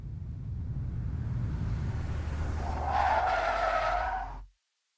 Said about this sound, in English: Then I heard the sounds of an engine appearing from up ahead.